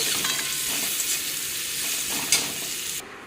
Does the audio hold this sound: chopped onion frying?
yes